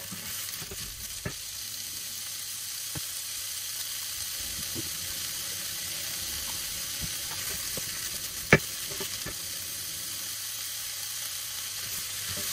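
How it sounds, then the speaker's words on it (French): Onions and carrots fry over high heat in a pan, giving a faint, steady sizzle with a few sharp clicks and a brief utensil knock, heard alone without voices. "Quand les oignons commencent à devenir translucides, on va venir mettre nos carottes. On est toujours à feu fort."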